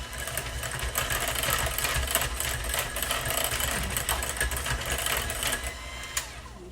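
A mixer churns ingredients for keto lasagna noodles with a steady, close mechanical whir and buzz that runs the whole time with no talking.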